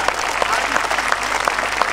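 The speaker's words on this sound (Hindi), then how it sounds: "तालियां जरा भरपूर दीजिए।" Audience at a Hindi poetry gathering in Seawoods applauds loudly, dense clapping filling the space for two seconds with a few sharper claps standing out.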